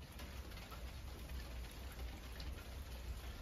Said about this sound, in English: it is piddling with rain